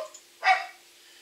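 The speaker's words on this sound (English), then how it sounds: "Excuse my dog barking." A single dog bark, short and moderately loud, in a quiet indoor room with a faint steady hum behind it.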